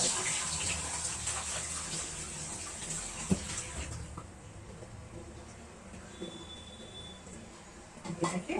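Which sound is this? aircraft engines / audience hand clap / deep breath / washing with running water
washing with running water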